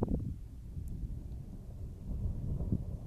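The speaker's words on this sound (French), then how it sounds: "Premier coup de tonnerre ici." Thunder rumbling during a storm as cumulonimbus build over the Languedoc, a low, sustained roll with a couple of stronger booms, heard alone without voices.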